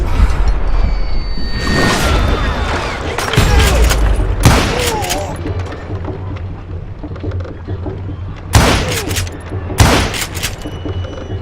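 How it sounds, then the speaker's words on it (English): Gunfire in the Western shooter game Call of Juarez Gunslinger: several loud, sharp shots in bursts, close and booming, with rumbling low echo and a voice talking between the shots. "I can shoot too!"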